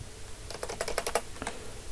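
Quick burst of computer keyboard typing, a rapid run of crisp key clicks close up, fairly quiet, alone without speech.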